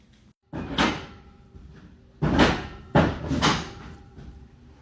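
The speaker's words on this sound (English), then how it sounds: "Stop pawing at the door." Horse paws and knocks at a door, producing three heavy wooden thumps with rattling, loud and close, the last two coming in quick succession.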